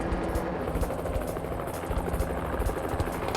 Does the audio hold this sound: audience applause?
no